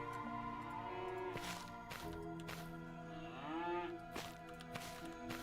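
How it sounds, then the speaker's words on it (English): A frightened cow in a fantasy video game moos in long, drawn-out bellows over a continuous layer of game music, the calls rising and falling and standing out clearly in the mix. "The cow was frightened as I approached and tried to run away."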